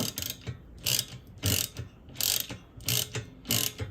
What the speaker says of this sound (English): get the top nut on and try to just loosely tighten it so it can somewhat hold it in place.